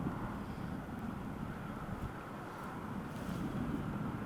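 Strong headwind gusts across an open disc golf course during a charity tournament round, a continuous low roaring rush of wind buffeting the microphone, close and steady with slight surges, no voices.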